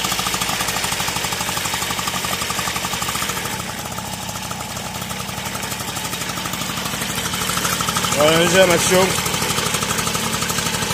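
An MBK 51 NW moped engine starts and runs with a steady, rattling two-stroke chatter, close and loud throughout, while someone speaks briefly over it.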